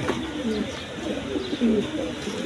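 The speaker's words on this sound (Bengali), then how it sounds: "তো দেখেন বিভিন্ন ধরনের বিভিন্ন বিটের কবুতর আছে" Pigeons of various breeds, several sitting on eggs in a crowded loft, give repeated low coos at close range, with soft overlapping calls throughout.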